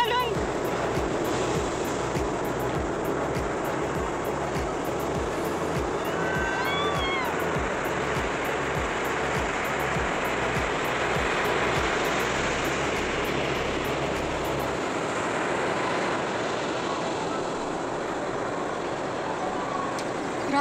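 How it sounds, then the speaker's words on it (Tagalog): Big ocean waves crash steadily against the rocky coast at Sharp Peak in Sai Kung, Hong Kong, a continuous loud roar of surf with wind noise and no clear pauses between swells. "Grabe, ang taas na alon."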